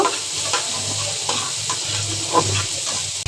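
Dried fish, shutki, fries in oil in a pan for a steady broadband sizzle, with utensil scrapes stirring it at intervals; no one speaks.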